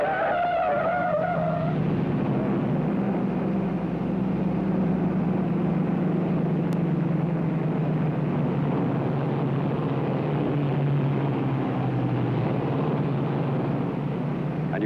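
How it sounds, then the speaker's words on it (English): A 1950s Chevrolet pulls away from a standstill on a steep grade, its tires squealing in a long sustained screech over a loud straining engine, with no voices. "And you heard that tire squeal?"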